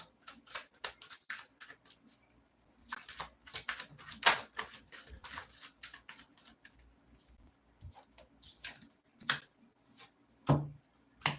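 Tarot cards are shuffled and handled: quick dense bursts of papery flicks and snaps, with scattered single taps and a pause between flurries, close and fairly quiet.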